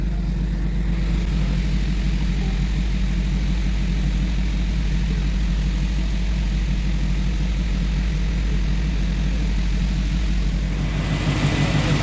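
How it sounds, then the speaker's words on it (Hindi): A Mercedes-AMG G63 engine idles steadily after an oil and filter change, a constant low rumble with a faint whir on top, running unbroken and close by with no talking. "गाड़ी को स्टार्ट किया है"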